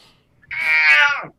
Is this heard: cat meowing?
yes